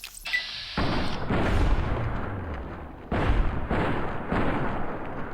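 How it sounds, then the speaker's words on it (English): Gunshots in Fallout New Vegas, close and loud, several reports each with a booming rolling tail, spaced a second or two apart. "And we're going to shoot him in the head."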